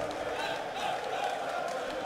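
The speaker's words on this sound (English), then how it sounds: "I think the noise of the crowd is even wobbling our cameras on stage." A crowd at a PDC Austrian Darts Open match in 2014 gives a dense, steady roar of cheering and clapping. Words are heard faintly underneath.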